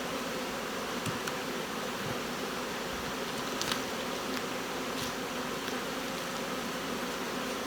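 A steady, dense buzzing hum of many honey bees, unbroken for the whole stretch, with no voices.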